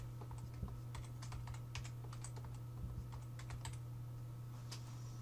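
A password is typed on a computer keyboard, a run of quiet, irregular key clicks over a steady low hum, with no voices.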